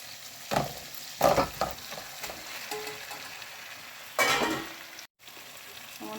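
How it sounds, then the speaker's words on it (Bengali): Spice paste is stirred and fried in a small wok for a spinach, arata fish and tomato bhuna, with a steady sizzle broken by several louder scraping stirs, close up and with no talking. "এটার মধ্যে মশলা কষাইছি।"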